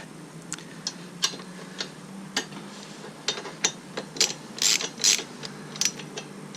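A ratchet tightens the silencer clamp on a Moto Guzzi V7 motorcycle: close, crisp clicking in short bursts, sparse at first and then faster and louder in quick runs, with no talk.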